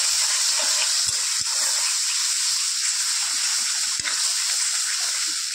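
Cashews and curd fry in a pan for a paneer curry, giving a steady broadband sizzle with a few soft knocks of stirring, close and continuous with no talk.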